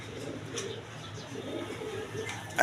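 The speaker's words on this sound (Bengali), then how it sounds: "এখানে দেখেন এক পেয়ার শৌখিন কবুতর আছে" A pair of large fancy satin pigeons coo softly in a cage, low repeated murmurs close by against faint background noise.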